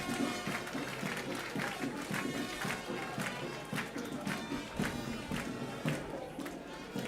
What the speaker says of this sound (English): Please, a round of applause for these officers and men.